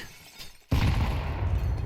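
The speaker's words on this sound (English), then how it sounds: "you'll notice I'll throw a grenade at the glass here" In Counter-Strike on the Inferno map, a thrown grenade strikes glass: a sudden sharp crash after a quiet start, followed by a sustained, noisy rumble and crackle.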